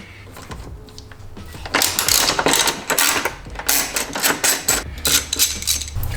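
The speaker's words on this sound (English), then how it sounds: "go ahead and remove this OEM T40 bolt here off this bracket" Ratcheting clicks as an OEM T40 bolt is backed out of a bracket on a BMW F30 during an intake install, a quick burst of close, loud mechanical clicking in uneven runs after a quiet start.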